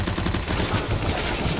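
Rapid bursts of automatic gunfire in the video game Counter-Strike: Global Offensive, dense and loud, with fast repeating shots that blur together over a short stretch.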